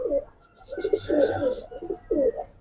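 Giribaz and coloured pigeons in a loft give soft, repeated cooing phrases, fairly close and moderately loud, with short pauses between bursts and a faint higher chirp in the background.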